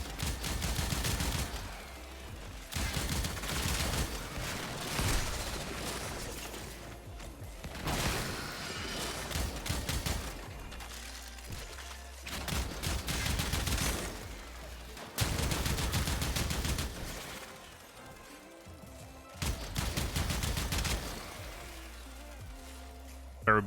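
Bursts of rapid automatic gunfire in Warframe, several dense volleys a few seconds long, loud and separated by brief lulls that carry quieter game sounds and faint voices.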